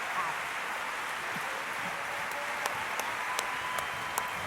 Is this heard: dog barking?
no